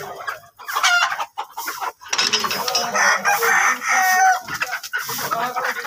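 A rooster crows repeatedly in a village setting, loud and near, its calls broken by short clucks and pauses, with no talking.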